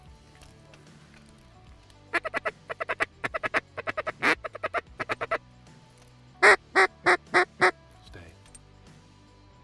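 Wood ducks quack during a duck hunt, first in several quick bursts, then a louder run of five evenly spaced calls, close and clear; someone briefly speaks early on.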